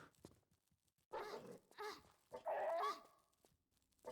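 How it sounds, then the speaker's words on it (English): Dogs in Tomb Raider: The Last Revelation give three loud, close bursts of barking and growling, separated by short quiet gaps with faint background noise. "as soon as you enter the main door, you'll get attacked by 2 more dogs."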